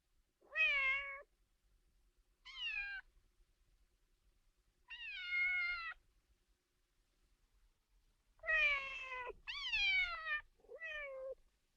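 A person's voice imitates a cat, giving six drawn-out meows spaced by short silences, some in quick succession.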